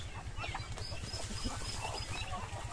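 Laying hens clucking softly on a farm amid steady low rural background noise, with scattered calls and a faint rustle of movement, no talking.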